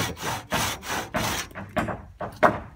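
A crosscut saw (traçador) cuts through wood at a rural homestead where porches are being built, giving steady, loud rasping push-pull strokes about every half second, close by and with no talk.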